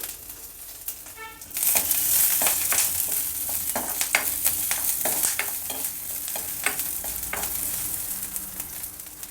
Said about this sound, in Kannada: ಈಗ ಇದೇ ಎಣ್ಣೆಯಲ್ಲಿ ಒಂದು ಗೆಡ್ಡೆ ಪೂರ್ತಿ ಬೆಳ್ಳುಳ್ಳಿ ಬಿಡಿಸ್ಬಿಟ್ಟು ಹಾಕ್ಕೊಳ್ತಾ ಇದ್ದೀನಿ ಅದನ್ನು ಚೆನ್ನಾಗಿ ಹುರ್ಕೊಳ್ಬೇಕು